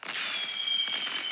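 A burst of fireworks sound effect plays as part of a celebratory shout-out, a dense crackling hiss of sparkling pops sustained for just over a second, loud and close.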